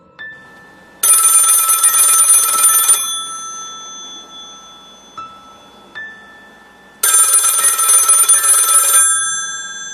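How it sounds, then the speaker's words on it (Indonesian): A telephone ringing in two loud electronic trilling bursts of about two seconds each, separated by a quiet gap with a couple of faint clicks. "Setelah pertemuan itu beberapa hari kemudian, Ridwan telepon"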